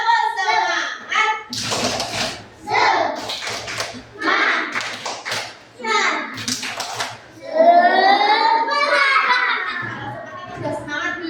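Children in an Indonesian first-grade classroom clap out a patterned rhythm in quick bursts, trading phrases with a group chant and a teacher's voice between the claps.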